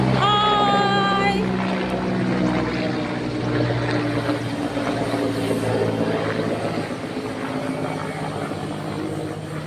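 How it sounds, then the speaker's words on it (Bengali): A helicopter passes overhead with a loud, steady rotor and engine drone that holds a clear whining tone at first, then continues as a broad rumble. "এই যে একটা হেলিকপ্টার যাচ্ছে"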